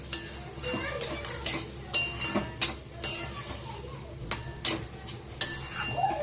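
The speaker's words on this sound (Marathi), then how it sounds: "आता आपण त्यात भाजलेला रवा टाकूया आणि मिक्स करून घेऊया" Roasted semolina stirred into a coconut mixture in a pan, a series of irregular sharp spoon clinks and scrapes against metal at close range, with soft shuffling between strikes.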